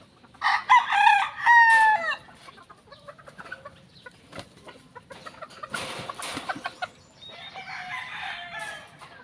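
Gamefowl roosters and hens on a game farm crow loudly several times near the start, with scattered clucking and further crows continuing at lower level through the rest.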